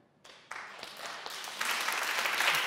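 Audience applause at a church session on solidarity, starting sparse and swelling into sustained clapping that grows louder and fuller toward the end, with no speech over it.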